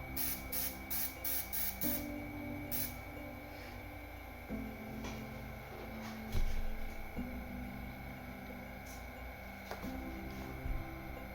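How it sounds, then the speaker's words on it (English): An airbrush sprays custom-mixed paint in a quiet steady hiss over a constant compressor drone, opening with a quick series of short sputtering bursts and then settling into longer, soft continuous spraying. "Let's actually squirt some with an airbrush."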